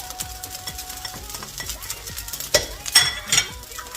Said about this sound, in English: because the rice is already fried, we will start putting our liver and the shrimps